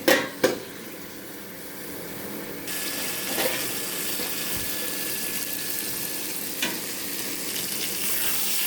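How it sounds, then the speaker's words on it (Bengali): Eggplant pieces frying in a covered pan give a steady, soft sizzling hiss, opened by a couple of sharp knocks at the start and a brief clatter partway through, heard close with no speech. "বেগুনগুলো ভাজা ভাজা হয়ে গেছে।"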